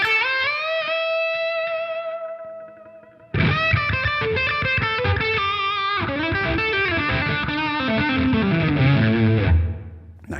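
Electric guitar through a Line 6 Helix overdrive/distortion model, a soft sustained chord giving way to loud, creamy driven playing with ringing notes and sliding low phrases, close and alone.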